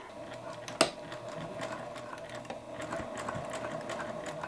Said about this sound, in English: I'm going to take it to the sewing machine and I'm going to stitch down either side one eighth of an inch in from the edge